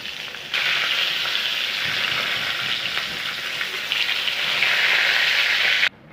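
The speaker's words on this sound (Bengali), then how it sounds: "এগুলিকে ভেজে নামিয়ে নেব। দেখুন বন্ধুরা, পটলগুলো ভাজি হয়ে গেছে।" Steady, loud sizzling of pointed gourd frying in hot oil, a continuous hiss that runs for several seconds before cutting off abruptly.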